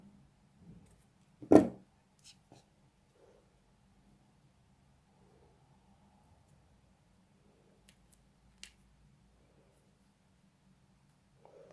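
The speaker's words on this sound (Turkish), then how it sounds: "Bakın ipimi çektikten sonra buradan hemen kesiyorum." Scissors snip through string while a necklace is being made, a single sharp cut standing out near the start, followed by a few faint clicks and handling noises over a quiet background.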